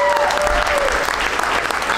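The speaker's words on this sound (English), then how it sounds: "round of applause for everybody you saw tonight" Dense, loud applause fills a room after a comedy roast benefit show, a steady wash of many hands clapping without pause, with crowd noise mixed in.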